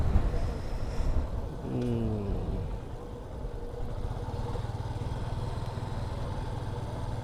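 A motorcycle engine idles nearby in the parking area of Jalsiri Central Mosque, Sector 17, with a low, steady, even putter, and a brief voice is heard early on.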